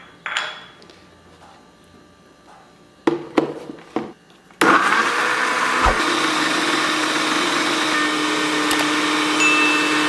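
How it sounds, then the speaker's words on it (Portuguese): A few clunks and knocks, then a weak blender starts and whirs loudly and steadily blending fruit with water, a harsh continuous motor roar to the end. "Já passei no liquidificador."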